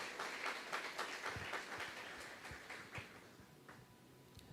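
A church congregation claps during a worship service, a faint, rapid patter of many hands that tapers off toward the end.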